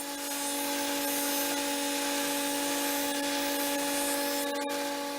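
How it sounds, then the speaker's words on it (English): A thickness planer runs steadily as walnut boards feed through it, giving a continuous loud whine with a few brief clicks near the end. "Goes through the planer pretty good."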